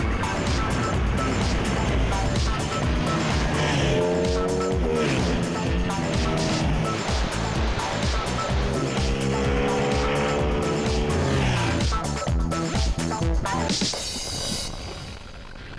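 Ducati 848 Streetfighter naked sport motorcycle riding on the open road: a loud, continuous engine roar rising and falling in pitch through gear changes, close and steady, fading slightly at the end.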